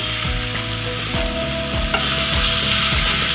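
Spices frying in oil in a pan with pointed gourd, loud continuous sizzling close up, with a few short scraping strokes of a stirring spoon.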